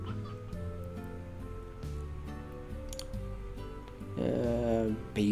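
Chickens cluck in the Slime Rancher video game, with hens and roosters near a coop, their clucks mixed into steady game music and ambient tones, growing louder toward the end.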